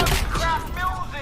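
Gunfire in the RoboCop: Rogue City video game, a dense, sustained fusillade of shots rattling loudly through the whole stretch with some voice mixed in underneath.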